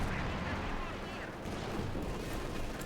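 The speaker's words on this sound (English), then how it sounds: "mine goes off, country almost being wiped out by the cacophony of explosions they unleashed by Quiritz" Dense battlefield explosions and gunfire from the Company of Heroes 2 strategy game, a mine blast and grenade assault among them, rumble continuously and loudly for a few seconds with no pause.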